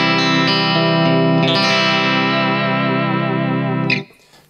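An electric guitar running through an Origin Effects Cali76 compressor pedal set for subtle compression sustains a rich, even chord that rings smoothly for about four seconds before being cut off, loud and close, with no speech.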